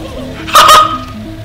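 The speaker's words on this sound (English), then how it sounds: "quack quack. I am the mighty duck." Duck quacking in DOOM, a short honking call in the middle of the clip, loud and close over a low steady game background.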